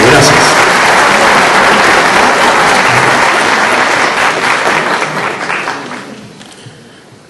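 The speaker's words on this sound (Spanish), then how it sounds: "un aplauso fuerte para ustedes" Sustained audience applause at the opening of a criminal law and litigation diploma course, loud and dense from the start, thinning and fading toward the end.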